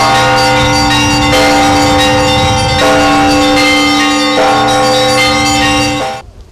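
Church bells ringing loudly and close, with repeated overlapping strikes about every one and a half seconds and a long shimmering ring that cuts off abruptly at the end.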